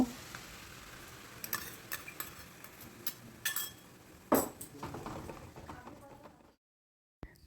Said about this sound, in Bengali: এবার লিকুইড মশলাটা দিয়ে দেব